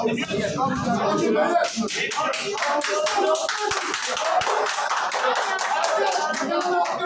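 Clapping breaks out among a crowd at a tense party congress in Bahçelievler, a loud dense patter of many hands with sharp slaps, mixed with shouting voices throughout.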